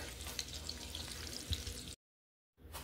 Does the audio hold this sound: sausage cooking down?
yes